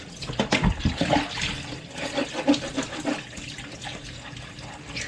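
Water splashes and runs steadily as a water filter cartridge is rinsed, a close, fluctuating gush with irregular spattering that eases toward the end, with no voices.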